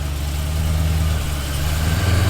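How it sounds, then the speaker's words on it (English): A loud car engine idles nearby with a steady, deep, even throb that stays constant throughout. "Car so loud!"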